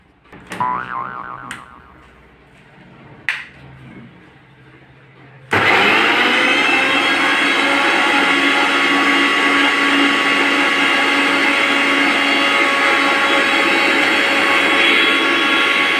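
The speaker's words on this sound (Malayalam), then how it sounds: "അത് മിക്സിക്കകത്തോട്ട് വെച്ച് ഒന്ന് അടിച്ചെങ്ങെടുക്കാം." A few handling knocks and clatters come first, then a mixer grinder blending green chillies, onion and salt for chutney starts abruptly and runs as a loud, steady whirring roar to the end.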